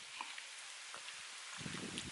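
Rain falling outdoors, a soft continuous patter of drops on surfaces, fairly faint and steady, growing a little denser and closer toward the end.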